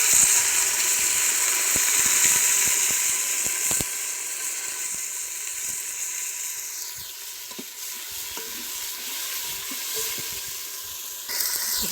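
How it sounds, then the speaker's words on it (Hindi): Golden-brown onions frying in a pan for chicken mandi, with a small splash of water added: a loud, steady sizzle and hiss with stirring scrapes, gradually settling, and no talking. "थोड़ा सा पानी ऐड करेंगे।"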